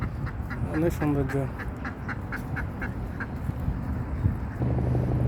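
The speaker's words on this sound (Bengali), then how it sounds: "পার্কে পানিতে হাঁস আছে, চীনা হাঁস, রাধা হাঁস, অনেক সুন্দর হাঁস" Ducks on a park pond beside a road in Abu Dhabi give a short burst of nasal quacks, then go quieter under steady outdoor background noise as someone speaks over them.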